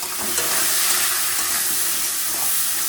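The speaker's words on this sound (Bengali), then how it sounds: "কাঁকড়াগুলো ভাজা হয়ে গেছে, তুলে নেব।" Loud, steady sizzling of sea crabs frying in a hot pan, a continuous hiss with faint scraping of stirring, no voices.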